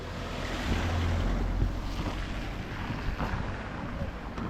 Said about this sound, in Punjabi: ਇਹ ਸਾਰਾ ਹੀ ਜੋ ਪਾਣੀ ਹੈ ਨਾ ਇਹ ਸਾਰਾ ਹੀ ਬਿਆਸ ਦਰਿਆ ਦਾ ਹੈ